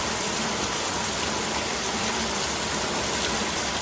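Steady, dense hiss of rain pouring down continuously in Vientiane, loud and close, with no voices.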